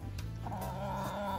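Fighting roosters at a poultry farm cluck softly and continuously, with low, close murmuring calls and no talking.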